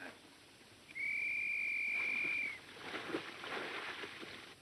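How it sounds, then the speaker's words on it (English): A single long signal whistle blast in a wartime field setting, a steady high tone of about a second and a half, clear and fairly loud over quiet outdoor background. "There's Tyne's whistle right on the nose."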